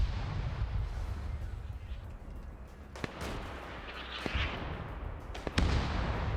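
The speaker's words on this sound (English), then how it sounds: "More artillery landing." Artillery shells land during an Arma PvP match, heard as distant, muffled booms. Several dull impacts stand out over a constant rumbling battlefield noise, the last one heavier than the rest.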